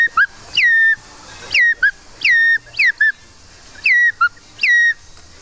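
A person whistles an imitation of a common redshank call at a hunting festival: repeated loud, sharp whistled notes that drop in pitch, often paired with a short second note, in a quick irregular series, close and alone without talk.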